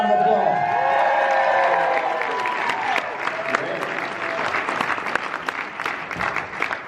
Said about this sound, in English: Let's give him another tremendous round of applause.